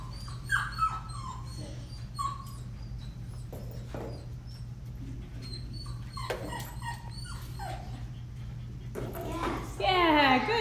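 Several dogs whimper and yip in high, wavering cries that come in scattered bursts over a steady low hum, with people talking nearby.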